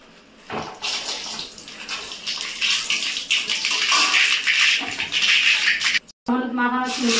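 Bay leaves, dried red chillies and mustard seeds sizzle in a hot kadai of oil. A loud, steady hiss runs almost the whole time and breaks off briefly near the end.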